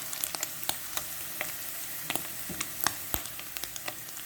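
Chopped ingredients for spicy bopis sizzle and fry in a pan, a quiet crackle with scattered sharp pops and a couple of stirring scrapes, close and without talk.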